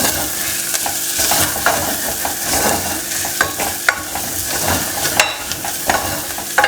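Chicken curry masala with fresh coriander leaves being stirred in a pan, a steady scraping and soft sizzling with irregular spoon knocks, close and alone.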